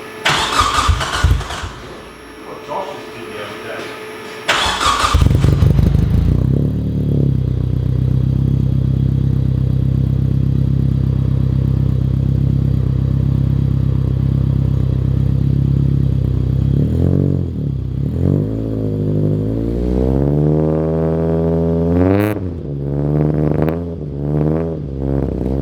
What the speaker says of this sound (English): Sounds pretty good for an NA 4-cylinder.